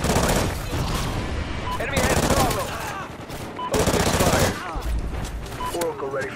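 Rapid bursts of automatic gunfire fill a Call of Duty Ghosts multiplayer match, loud and dense throughout, with repeated volleys and no pauses in the firing.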